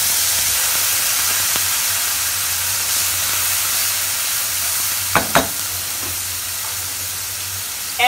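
Tomato puree poured into a hot pan of oil with asafoetida, giving a steady loud sizzle and hiss throughout, a low hum beneath, and a couple of sharp clinks of a spoon near the end.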